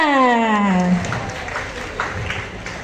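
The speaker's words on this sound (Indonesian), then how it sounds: "Boleh dong tepuk tangan untuk kita semua." Audience applause at a university seminar at Universitas Gadjah Mada breaks out as a sustained voice fades, then continues as scattered, moderately loud clapping across the room.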